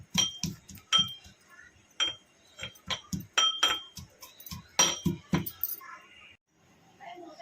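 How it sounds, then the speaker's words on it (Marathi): Green chillies pounded with salt in a mortar for thecha: about fifteen sharp thuds with a clinking edge, in an uneven rhythm, close and fairly loud, stopping about a second before the end. "तर मी हे चांगलं कुटून घेते आता."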